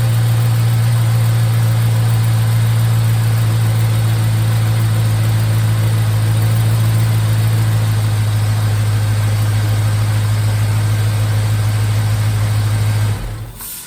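An LS V8 swapped into a 1951 Hudson idles loud and steady with a constant low drone right after its first start, holding evenly for the whole stretch before cutting off at the very end.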